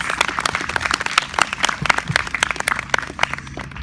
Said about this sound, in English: can we have a round of applause for all the Relay for Life teams, organizers, and mentors?